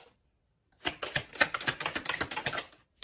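Tarot cards shuffled and drawn during a reading: a dense run of quick papery riffling and flicking clicks, close and fairly loud, ending with one brief snap alone.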